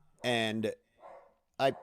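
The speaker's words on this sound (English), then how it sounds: "my dog Jackson every day is shocked that the mailman shows up." A dog barks a few times indoors, close and loud, with a long first bark, a short follow-up and another bark after a brief pause.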